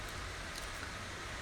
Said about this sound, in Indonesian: Ih, hujan pula ini.